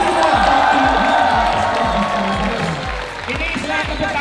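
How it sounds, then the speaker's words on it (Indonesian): A large crowd at an RRQ esports fan event claps and cheers loudly and continuously, with rhythmic thumping beats underneath and an announcer's voice partly audible over the noise. "Tepuk tangan buat kalian semua."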